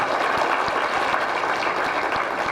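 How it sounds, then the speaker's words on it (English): Audience applause at a mayor's book club event, steady dense clapping from a crowd filling the whole stretch at an even level with no voices. "Let's give them all a round of applause."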